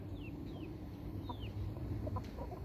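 Hens and chickens on a farm clucking softly in short, scattered calls with a few higher chirps, faint and somewhat distant over a steady low background hum.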